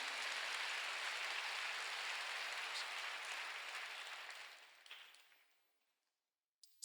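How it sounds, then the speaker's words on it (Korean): A church congregation at a Korean worship service claps together in steady, broadband applause that holds for several seconds, then thins out and dies away to silence, with a brief final clap at the end. "박수하세요."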